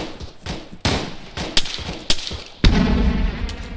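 Gunshots in ARMA 3 during a joint military operation: several sharp, loud reports at irregular intervals, ending in a heavier blast with a sustained rumbling tail.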